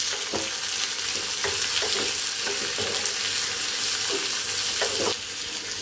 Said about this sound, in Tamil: சின்ன வெங்காயம், 1 மிளகாய், 1 பச்சை மிளகாய் நல்லா வந்து வதக்கி விடலாம்.